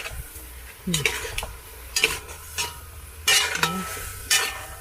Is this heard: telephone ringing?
no